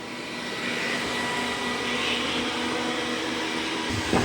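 Dreame D9 Max Gen 2 robot vacuum whirs steadily in turbo mode, a constant airy motor hiss with a faint high whine, close by and alone, with a small bump at the end.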